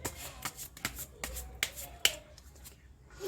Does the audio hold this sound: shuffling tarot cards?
yes